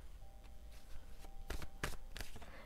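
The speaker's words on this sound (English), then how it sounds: "as I'm shuffling here" Tarot cards being shuffled by hand: soft, faint riffling bursts in an irregular rhythm, several short flurries close by and quiet.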